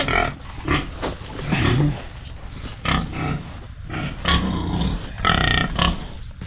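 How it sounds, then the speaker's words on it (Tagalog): Pigs on a farm grunting as they eat, with repeated close grunts and snorts in an irregular rhythm over a steady feeding background, no talk. "Nakain naman tayo ng mga baboy."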